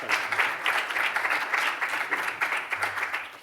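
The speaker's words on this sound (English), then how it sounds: "round of applause." Audience applause greets a speaker at an academic talk: continuous dense clapping from a room full of listeners, steady and moderately loud for a few seconds with slight swells.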